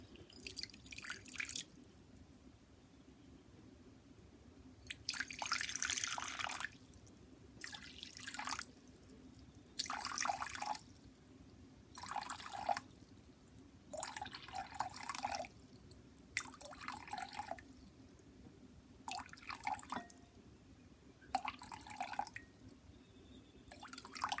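Water pours in short, repeated bursts with pauses between, splashing into a bowl as 280 grams are weighed for ciabatta dough, close and fairly quiet over a low steady background hum.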